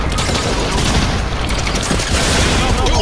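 Dense, continuous rapid-fire gunfire from a kaiju gun in a video game, loud and sustained with booming bursts throughout, at steady high level.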